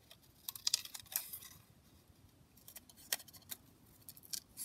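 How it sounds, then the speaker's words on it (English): Scissors fussy cutting a small paper rosebud from a collage sheet, heard as a scattering of quick, crisp snips and small paper rustles, close and quiet, with no talking. "I'm going to again fussy cut one of these little rosebuds out"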